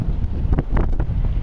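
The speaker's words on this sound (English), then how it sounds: "it's a windy day, and plus water creates a lot of wind too" Gusty wind buffets the microphone with low, rumbling bursts, loud and close, without any talking, beside water at a construction site at One World Trade Center.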